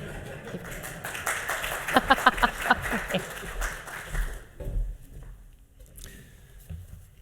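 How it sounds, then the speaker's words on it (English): Audience at a Nobel Symposium opening session applauding as a speaker walks on stage: scattered clapping rises and then tapers away, with some louder nearby claps midway and talk mixed in as it dies down. "Clapping until he's on stage."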